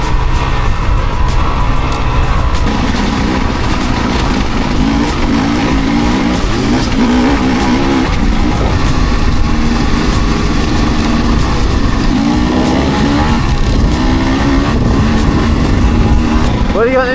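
Beta 250 Race 2026 enduro motorcycle ridden off-road, its engine droning loud and steady throughout with rising and falling revs, close to the microphone, with voices talking over it.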